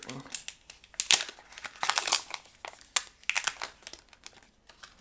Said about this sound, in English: It's ripping.